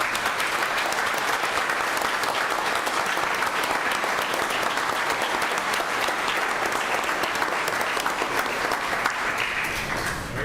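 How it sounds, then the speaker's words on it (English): Loud, sustained applause from a village board meeting crowd honoring nine newly sworn-in officers, a steady dense clatter of many hands lasting about ten seconds. "Can I ask for one last round of applause just for our 9 that were sworn"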